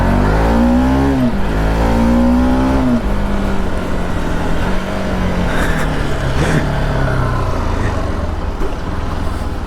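A KTM Duke 200 BS3 motorcycle engine revs loud and close, its pitch climbing and dropping through several throttle blips before settling into a steady rough drone, with no talking.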